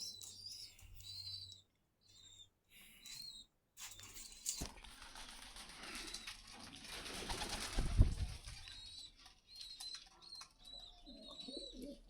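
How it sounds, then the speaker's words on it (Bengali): Racer pigeons at a Dhaka market coo softly in repeated low, throaty phrases, fairly faint and close, with a short flutter or bump partway through. "আর অল্প কিছু কবুতর দেখায় দিই কী কী কবুতর থাকতে পারে"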